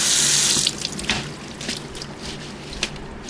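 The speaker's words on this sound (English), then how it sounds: "Now I will wash these with water." Sweet basil leaves rinsed under a running kitchen tap, with a loud burst of water at the start settling into a steadier splashing flow with small drips and trickles, close by and with no voices.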